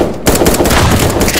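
Rapid automatic gunfire in the video game Fortnite 1v1.LOL, a loud dense burst of shots filling the short moment after a brief quiet start.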